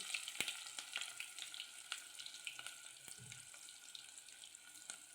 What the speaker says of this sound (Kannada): ಈಗ ಗ್ಯಾಸ್ ಓಪನ್ ಮಾಡಿ ಎಣ್ಣೆ ಕಾಯ್ದ ನಂತರ ಸಾಸಿವೆ ಹಾಕಿಕೊಂಡೆ.